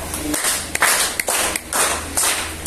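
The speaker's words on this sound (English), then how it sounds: "let's give a 5 claps to the group 1" A group of students in a Grade 9 science class claps together in a few distinct bursts, close and fairly loud, with no talking over it.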